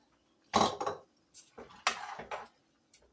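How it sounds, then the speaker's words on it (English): A cup of dry rice pours into a cooking pot in a home kitchen, making a few rattling, rustling bursts of grains hitting metal, close up and separated by short pauses, with a faint click at the end. "This is 1 cup of rice. I measure. And we're just going to add it there."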